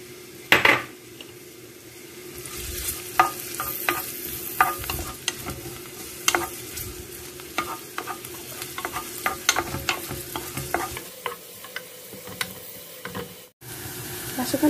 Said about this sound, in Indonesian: Tumis bawang bombay.